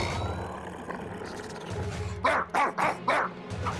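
A cartoon guard dog barks four sharp times in quick succession, close and loud, after a stretch of background music and ambience.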